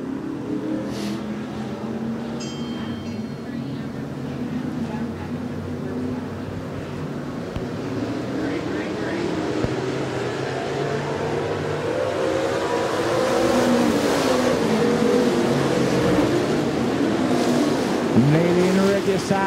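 Street stock race cars thunder around Smoky Mountain Speedway, a continuous loud engine roar that builds over time with pitch sweeps as cars pass side by side, while a commentator talks over the racket.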